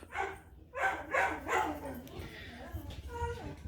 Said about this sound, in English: Cue the dogs barking.